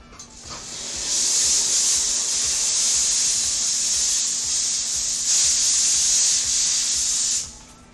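A jewelry cleaner hisses steadily while cleaning a men's ring, a loud, even spray of steam that rises after a second and holds for about six seconds before cutting off.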